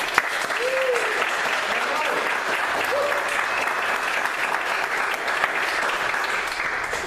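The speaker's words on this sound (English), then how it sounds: "give Michael a round of applause" An audience at a talk on Common Core in Nassau County, New York, claps in sustained, dense applause for several seconds, loud and close, with a few scattered vocal sounds mixed in.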